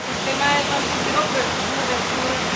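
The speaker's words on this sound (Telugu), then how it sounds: "హాట్ స్ప్రింగ్స్ వాటర్ అంతా కూడా ఇక్కడ నుంచి డ్రైన్ అవుతాయి అన్నమాట" Hot spring water drains through the drainage channel of an ancient Roman bath, making a steady, close, broadband rushing and gushing that holds evenly throughout.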